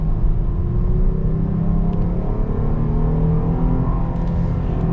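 A 2021 Jeep Grand Cherokee L Summit accelerating hard, its engine a steady, loud rumbling drone from inside the cabin, with gradually rising harmonic tones and no talking.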